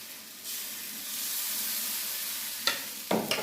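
Ragi batter is poured into a hot appam pan, bringing on a rising hiss of sizzling that holds steady, followed by two sharp clanks near the end. Close and clear, with no talking.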